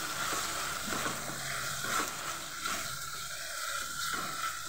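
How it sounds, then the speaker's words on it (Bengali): Macaroni pasta stirred in a pan with Schezwan chutney and tomato ketchup, a steady close sizzle and soft scraping running continuously without talk. "এটা দিয়ে আমি একটু নেড়ে নেব।"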